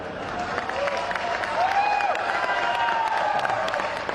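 Students in a large audience hooting and cheering, a steady crowd roar with whistle-like hoots rising over it, with talk mixed underneath.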